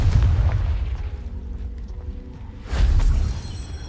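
The Confringo blasting spell from the video game Hogwarts Legacy goes off: a loud, deep explosion rumbles and fades, then a second heavy blast booms partway through.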